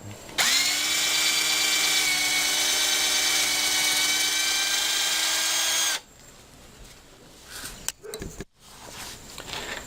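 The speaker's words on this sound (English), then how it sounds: "Drill a small pilot hole through the top part of the bracket" A loud power drill whirs steadily for several seconds, drilling a pilot hole in a scrap-wood shelf bracket, then stops, followed by quieter handling clatter and a few knocks.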